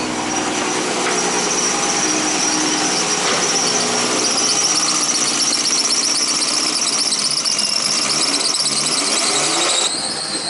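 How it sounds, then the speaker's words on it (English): A Nissan RB25DET engine with a fixed low-compression cylinder and a rough fuel map idles continuously and loudly at close range, with a high-pitched squealing whine running over the steady rumble throughout. "It's idling much different to before."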